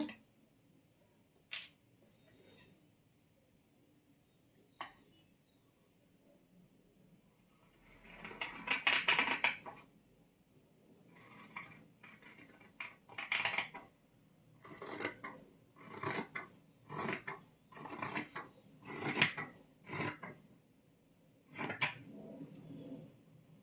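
Scissors cut through blouse lining fabric in a string of crisp snips, sparse and isolated at first, then quickening into a steady rhythm of close, quiet cuts against a hushed room.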